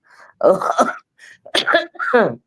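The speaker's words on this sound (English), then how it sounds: "Child can't shake this cough." A child coughs in several short, harsh bursts spaced by brief pauses, close and fairly loud with no other sound around.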